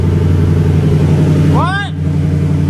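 An engine-swapped Toyota Prius with a 6.0L engine drones loudly in second gear under a steady, close engine roar, while a brief rising tonal chirp cuts through near the end.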